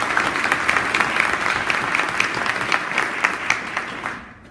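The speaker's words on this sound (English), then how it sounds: "Can we give the panel a round of applause, please?" An audience applauds a panel at an early childhood education talk, with close, steady clapping and a few louder individual claps that tapers off at the end.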